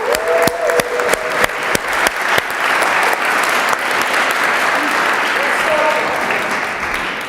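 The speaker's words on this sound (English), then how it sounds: "give her a round of applause" Talk-show audience applauding as a speaker walks onto the stage, sustained loud clapping from a sizable crowd that swells early and carries on to the end, with a few sharp louder claps near the start.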